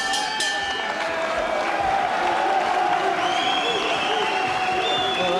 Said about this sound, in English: Well, that certainly got the crowd at it and hurt Dave Andrews, I must say.